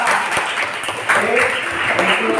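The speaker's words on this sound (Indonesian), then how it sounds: "Langsung tepuk tangan untuk kalian semua" A classroom of students claps together in dense, steady applause, with voices mixed in throughout.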